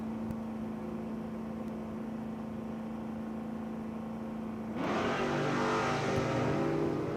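Drag race cars, one a Mustang, sit idling with a steady low engine drone at a distance, then launch down the strip as the engines surge into a loud, rising roar.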